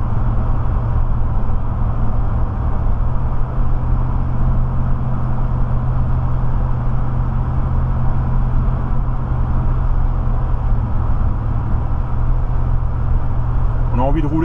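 A 1976 Ford Thunderbird with 26,600 miles cruises in traffic, a steady low engine and road drone from inside the cabin, constant and fairly loud, with someone talking over it.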